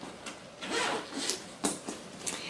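A zipper on a sewn bag is pulled open in several short rasping strokes, close and fairly quiet, with brief pauses between pulls.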